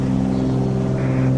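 Cessna Citation jet engines in Microsoft Flight Simulator spooling up to full takeoff thrust on a small runway, a loud steady drone with strong sustained tones and rising hiss.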